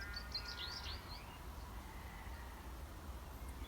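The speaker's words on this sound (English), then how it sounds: "listen to the birdsong" Faint birdsong outdoors at Seaton Wetlands in April, a few distant chirps and trills early on over a quiet, low rumbling background, then fading into near silence.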